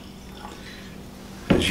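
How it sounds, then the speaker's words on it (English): A dram of Cutty Sark blended Scotch whisky is poured into a glass, a short close liquid splash arriving at the very end after a quiet stretch. "as you pour the dram of Cutty Sark"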